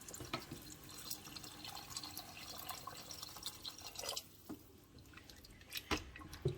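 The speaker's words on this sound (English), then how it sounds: "I'm just going to have to add some more water into it anyway" Water trickles and drips into a pot of dehydrated vegetables, including zucchini, for chicken and rice; faint, close, uneven splashes and drips with no speech.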